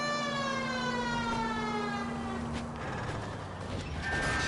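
Police car siren in the 1947-set video game L.A. Noire, a loud wailing tone sweeping steadily downward over about three seconds, then rising again near the end, with engine and street noise underneath.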